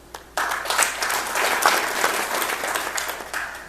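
Guests at the 8th KABFF breakfast forum break into applause that starts abruptly after a brief quiet moment, then carries on as dense, steady clapping before slowly easing.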